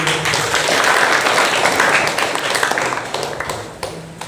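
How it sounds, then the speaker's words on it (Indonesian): Students in a vocational school classroom applaud together, a dense burst of clapping that starts full and gradually thins out and fades toward the end. "Tepuk tangan sekali lagi."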